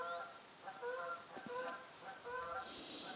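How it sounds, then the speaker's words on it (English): Geese honk repeatedly in short, nasal bursts, several calls overlapping at a moderate distance near a nature reserve, with no talking. "There's some geese making noise."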